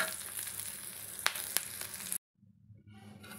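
Ridge gourd pieces sizzle and fry in hot oil in a pan, a steady bright crackle with a couple of sharp pops before the frying abruptly cuts out, then faint sizzling returns.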